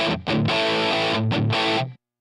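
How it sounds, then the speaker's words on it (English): Short bursts of electric guitar chords through a Headrush unit's dynamic compression, distortion and parametric EQ, heavily distorted and compressed, loud and close, a few strummed hits over about two seconds before cutting out. "all we're going to hear now are just the dynamic compression, the black op distortion, and the parametric EQ"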